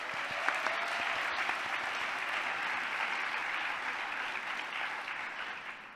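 Hall audience at the Hult Prize 2023 Global Finals gives a round of applause for competing university teams, even and fairly soft from a distance, easing off toward the end.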